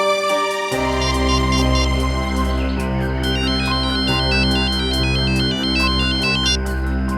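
A telephone rings with a loud, steady electronic ringtone that repeats its melodic pattern without a break, clear and close and with no voices over it.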